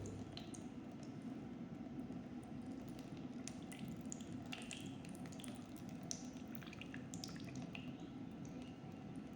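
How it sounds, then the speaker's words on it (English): Water runs through a siphon pipe in a faint, steady trickle broken by scattered small drips and gurgles, very quiet and close, with no voices. "then the water is flowing"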